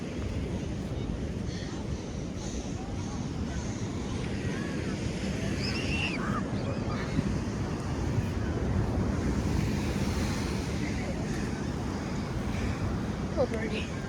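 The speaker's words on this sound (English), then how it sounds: "I see those really big waves." Big ocean waves crash over rocks in a continuous, rumbling roar of surf mixed with heavy wind buffeting the microphone, loud and steady throughout, with a few faint higher chirps over it.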